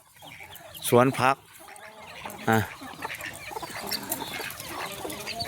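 Chickens and ducks kept at a Thai smallholding garden give scattered clucks and gargling calls near the recorder, with someone talking over them through much of the moment.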